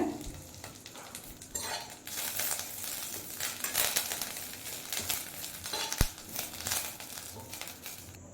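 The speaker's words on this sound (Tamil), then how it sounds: "ஒரு ரெண்டு கைப்பிடி அளவு கருவேப்பிலை சேர்த்துக்கோங்க சேர்த்துட்டு வறுத்துக்கோங்க" Curry leaves, about two handfuls, crackle and fry in hot oil on a low flame, a steady busy sizzle with papery crinkling and occasional sharp pops, close and fairly loud, with no talking.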